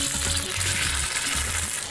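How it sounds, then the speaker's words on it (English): Lamb shanks fry in a pan of hot sunflower oil with loud, dense, continuous sizzling and crackling spatter close up, unbroken by talk. "Add the lamb shanks to the pan."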